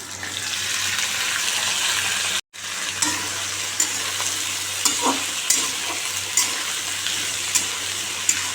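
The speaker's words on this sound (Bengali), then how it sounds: "একটু পাঁচফোড়ন দিয়ে করি এটা একটু ভাজা ভাজা করবো কাঁচা লঙ্কা দিয়ে দিয়ে দেবো" Panch phoron and green chillies sizzle and fry in hot oil in a pan, a steady loud crackle with occasional stirring scrapes and one brief dropout, with no talking.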